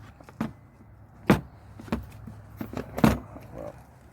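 Pittsburgh hand cable cutters squeezed one-handed through cable, giving several sharp, close crunching snaps spaced irregularly with small rustles in between.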